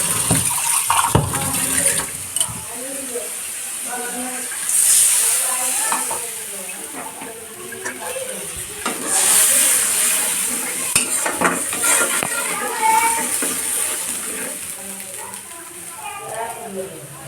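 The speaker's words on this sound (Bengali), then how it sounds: "তো দেখো তেলের উপর তেজপাতা, শুকনো লঙ্কা আর জিরে দিয়ে নিয়েছি" Bay leaves, dried red chillies and cumin sizzling in hot oil while being stirred, a continuous crackling fry with swells of hiss and clinks of a utensil against the pan, close, under a voice talking.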